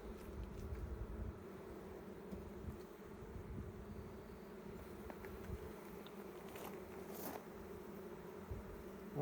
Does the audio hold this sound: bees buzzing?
yes